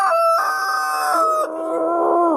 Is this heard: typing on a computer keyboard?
no